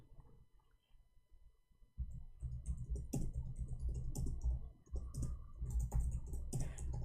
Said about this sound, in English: Oh boy, I was typing in Arabic.